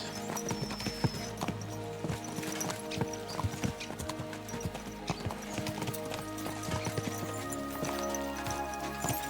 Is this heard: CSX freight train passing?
no